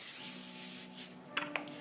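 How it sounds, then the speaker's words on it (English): Vegetable oil hisses in a steady, continuous spray onto a foil-lined baking sheet, close to the listener. A couple of faint clicks follow near the end. "I'm gonna spray some vegetable oil on it."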